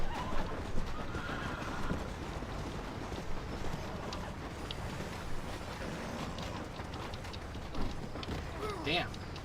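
A horse in Red Dead Redemption gallops with a steady clip-clop of hooves and neighs loudly several times, set against wind and outdoor ambience.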